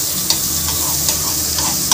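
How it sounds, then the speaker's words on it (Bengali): Butter sizzles and crackles in a hot pan on a gas stove, a steady close frying hiss with small popping spikes, heard alone without talk. "এবার দিয়ে দিচ্ছি বাটার"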